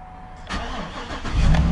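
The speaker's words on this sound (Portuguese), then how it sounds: "O som desse motor, cara." A high-mileage Cadillac Escalade pickup truck cranks briefly with a few uneven turns, then its engine catches and rumbles up louder into a low, steady run, heard close with no talking.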